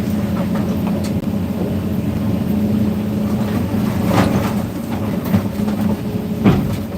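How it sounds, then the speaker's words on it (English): A scrap baler at a car crushing yard runs loudly as a continuous, heavy mechanical rumble and drone, with occasional louder clanks and bursts of noise over the steady grind. "No, the baler's pretty loud."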